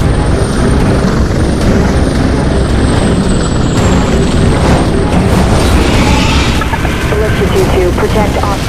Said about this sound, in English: James, they're surrounding Ellis' chopper.